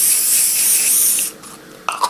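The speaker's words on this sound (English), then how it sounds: "We'll give it a coat of hairspray and see what it looks like" Hairspray sprayed from an aerosol can onto a painted model retaining wall, one loud close hissing burst lasting just over a second, followed by a couple of faint clicks.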